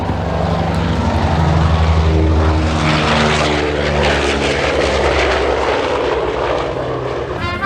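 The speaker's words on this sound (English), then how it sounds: "B-29 Super Fortress on the takeoff roll from Airshow Center" A B-29 Superfortress bomber roars loudly on its takeoff roll at an airshow, the deep propeller engine drone holding steady and close throughout, with shifting pitch as it passes.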